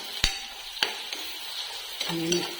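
Tomato rice fries in oil and ghee in a pan while a spoon stirs it. A few sharp scrapes and clinks sound over a soft, steady sizzle.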